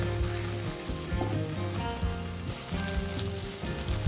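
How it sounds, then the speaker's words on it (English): Sardines with fish curry powder fry in a pan for a Malaysian sardine puff filling, giving a steady dense sizzle and crackle throughout, moderately loud with no talking. "After that, fry until the sardines become a dry fry."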